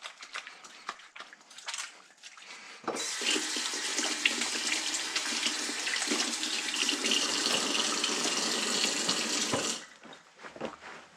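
A kitchen tap runs steadily for several seconds as hands are washed before mixing pizza dough, a loud, close rush of water that starts and stops abruptly, with light handling noises around it.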